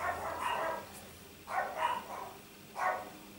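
Dogs barking indoors, three bursts of barks a little over a second apart, moderately distant and muffled, with no talking over them.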